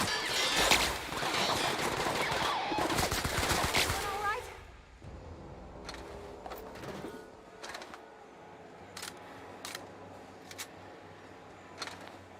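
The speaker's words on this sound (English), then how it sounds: "Why are you shooting me now?" Gunfire crackles in The Outer Worlds as a dense burst of rapid shots for several seconds, then thins to scattered sharp cracks amid game sounds, with a voice speaking.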